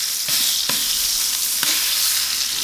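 A beef burger patty sizzles loudly on a hot griddle, a constant close hiss broken by a few sharp scraping smacks as the spatula presses it flat.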